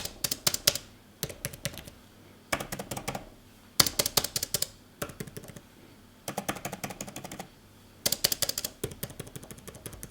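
Brisk bursts of typing on a tablet keyboard for an iPad, crisp clicky keystrokes in quick runs separated by short pauses, close up with no talking.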